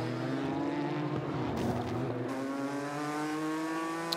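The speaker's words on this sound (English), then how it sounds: "67 Ford comes through to complete another lap." A 2016 Ford GT race car blasts past on the Spa-Francorchamps circuit during the 6 Hours endurance race, its engine note rising loud and then falling away with a clear pitch sweep as it passes.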